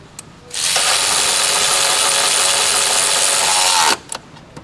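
A power tool runs on engine mount bolts of a 2014 Volkswagen Passat 1.8, giving one continuous loud whirring burst of about three and a half seconds, with faint clicks before and after.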